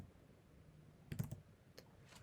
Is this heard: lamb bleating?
no